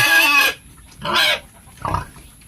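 Pigs on a piglet farm give three separate grunts and squeals, the first loud and high, the next two shorter and lower, close by with quiet pauses between them.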